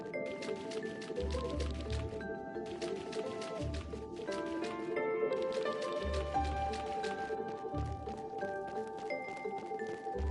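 Water pours and trickles continuously in the video game Chained Echoes, a steady liquid splashing bed under game music with a rhythmic low pulse.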